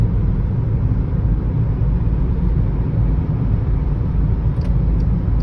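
Steady low road rumble and engine drone from inside a car being driven through city streets in Argentina, continuous and loud throughout with no talk.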